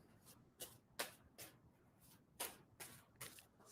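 Tarot cards are shuffled by hand in a steady rhythm of soft papery riffles, about eight or nine quick bursts close by and quiet, with no talk.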